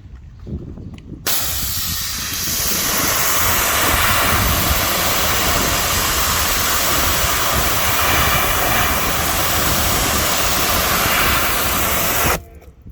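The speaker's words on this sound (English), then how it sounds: "I'm gonna pressure wash it off and we'll see how good this stuff works" A pressure washer sprays steadily for about eleven seconds, a loud, continuous hissing roar as it rinses bug remover and bug guts off a car, starting and stopping abruptly.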